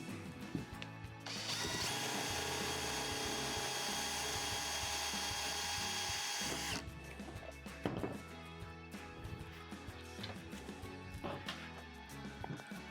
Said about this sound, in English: pilot a hole